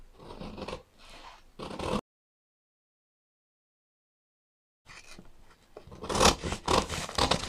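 Scissors snipping through fabric while cutting out a corset yoke, short bursts of crisp cutting separated by a pause, then a longer, louder stretch of close, scraping cuts.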